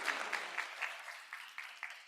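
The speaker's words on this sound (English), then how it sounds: "can I just get a round of applause for the panelists and for Barbara?" Audience applause for conference panelists at a healthcare trust and innovation forum, a steady patter of clapping that thins toward the end, moderately distant and without talk.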